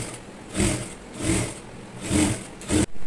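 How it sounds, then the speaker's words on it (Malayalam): A sewing machine stitches a folded quarter-inch hem on a pleated baby frock in four short, steady bursts of whirring separated by brief pauses, close and clear. "ഈ ഒരു സൈഡ് നമുക്ക് അതേപോലെ തന്നെ 1/4 ഇഞ്ച് + 1/4 ഇഞ്ച് മടക്കിയിട്ട് സ്റ്റിച്ച് ചെയ്ത് എടുക്കണം"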